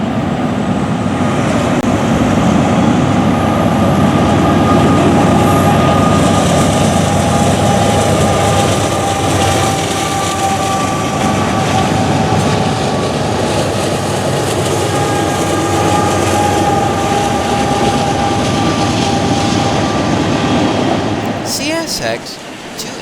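A southbound CSX freight train led by a 1997 GE AC44CW and a rebuilt EMD SD40-3 rolls across a bridge, a loud, steady rumble with rail clatter that holds for the whole stretch before easing off at the end.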